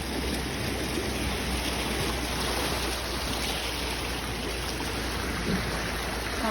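Muddy flooded river in West Virginia after a hurricane, a steady broadband rushing and roaring of high water, close and continuous with no pauses.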